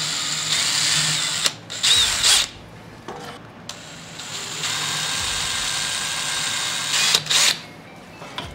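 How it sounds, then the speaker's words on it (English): A close electric drill bores holes in several long bursts, winding up and slowing between runs, with short pauses and faint handling noises. "I'll measure down and I'll drill all those holes."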